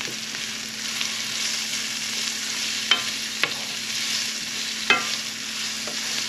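Onions fry in a pan as they begin to caramelize, giving a steady close sizzle with a few sharp clinks or pops scattered through it.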